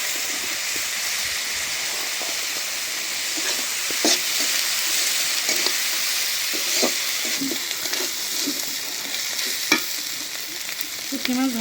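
Green chillies and dried fish fry in hot oil under a constant near hiss, with repeated spatula scrapes and clatters as the pan is stirred, no one speaking.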